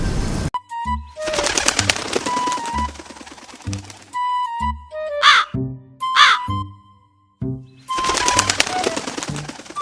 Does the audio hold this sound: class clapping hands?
no